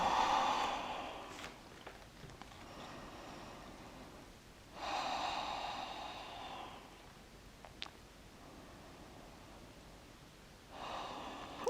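Breathing during a yoga downward dog pose, with audible inhales and exhales in three bursts spaced several seconds apart, close and moderately loud with quiet pauses between.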